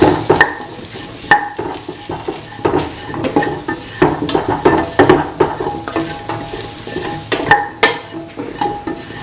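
Potato, mung beans and rice with spices are stirred in a hot pan. The spoon scrapes close and loud in quick, uneven strokes over a steady sizzle, with no voices.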